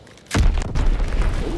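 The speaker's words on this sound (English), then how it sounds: "Enemy bomb incoming." A single enemy bomb explodes in Call of Duty WWII: a sudden, deep, booming blast that stays loud and rumbling through the rest of the moment, with no talking over it.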